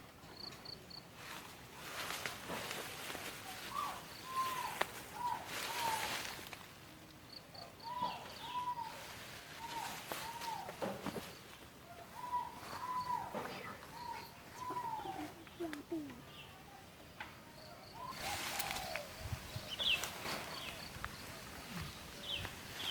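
Sooty-headed bulbul (kutilang) chicks in a nest give repeated short chirping calls in bursts, with insects and other outdoor sounds behind them and people talking nearby.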